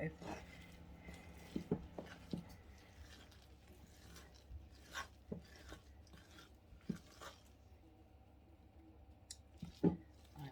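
Thick pink coconut ice mixture being stirred with effort, giving irregular sticky scraping and clicking strokes with pauses between them, close by over a low steady background.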